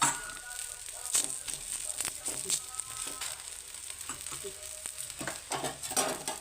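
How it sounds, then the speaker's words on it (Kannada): Oil sizzles steadily as a vegetable paratha fries on a hot pan, a continuous close crackle with occasional sharper pops and light scraping, no talk. "ಮೇಲಂತೂ ಹಿಂಗೆ ಎಣ್ಣೆ ಕಾಯಿಸ್ಕೊಳ್ಳೋಣ, ಚೆನ್ನಾಗಿರುತ್ತೆ"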